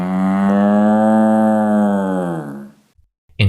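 A single cow gives a long, loud, deep moo that holds steady for over two seconds and then trails off, followed by a short pause and a faint clunk.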